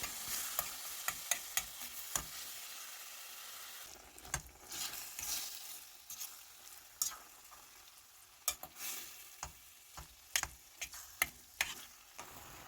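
Chicken pieces frying in three spoonfuls of olive oil in a pot, with steady soft sizzling broken by sharp clicks and scrapes of stirring at an irregular rhythm, close and alone without speech.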